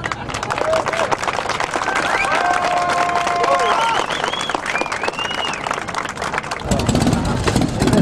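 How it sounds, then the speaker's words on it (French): A crowd applauds and cheers at a Harley-Davidson motorcycle show at a US-themed festival, sustained clapping with a few whistles, while an announcer speaks over a loudspeaker in the middle and a louder burst rises near the end. "applaudissements."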